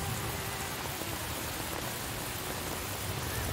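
Steady rain pours down in a dense, even wash of patter that fills the whole stretch, close and constant with no talk.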